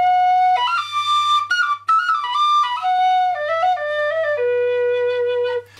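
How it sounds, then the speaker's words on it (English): An end-blown whistle plays a clear, loud melodic phrase of sustained pure tones with stepwise pitch changes and a brief breath break partway through, heard alone without talk. "So I had considered making a whistle, which would be something like this instrument here"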